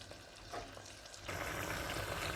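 Corned beef frying in oil in a pot, a faint steady sizzle at first, then a louder, denser crackle after about a second as the fry picks up.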